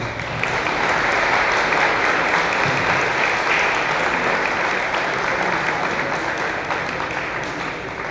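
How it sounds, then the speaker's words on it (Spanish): Sustained audience applause after a lecture on the Dominican order's history in Mexico, a dense, steady clapping that fills the room at even loudness for the whole stretch and eases only slightly at the end. "Le brindamos un fuerte aplauso."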